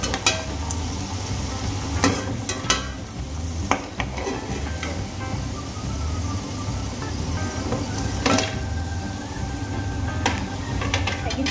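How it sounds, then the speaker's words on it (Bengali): Maggi noodle pakoras deep frying in hot oil, a continuous bubbling sizzle with occasional clinks of a utensil against the pan. "এই একই পদ্ধতিতে আমি সমস্ত ম্যাগি পকোড়াগুলো ভেজে নেব।"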